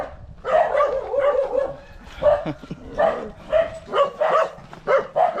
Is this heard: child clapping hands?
no